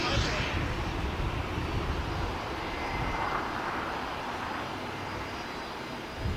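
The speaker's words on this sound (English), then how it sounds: "This is Cargo Lux Flight 19 coming in from ANC Anchorage on a 747 freighter." A Cargolux Boeing 747 freighter arriving at LAX from Anchorage fills the air with a loud, steady jet roar that holds without a break.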